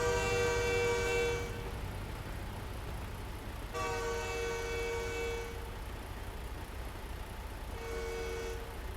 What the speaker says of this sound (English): Just waiting for the train.